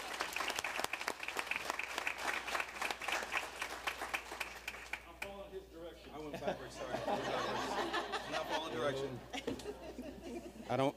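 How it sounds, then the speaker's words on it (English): Crowd applause for a fire department at a senior awards night, brisk clapping that thins out midway as chatter, chuckles and a speaking voice take over. "Round of applause for our fire department."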